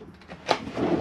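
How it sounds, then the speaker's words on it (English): A cutlery drawer slides open in a Chausson VIP 720 Titanium motorhome kitchen, a single short, close sliding rattle lasting about a second. "Cutlery drawer."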